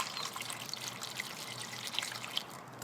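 Water trickles and splashes steadily as it is poured into the coolant reservoir of a BMW E65, a soft continuous pour heard up close.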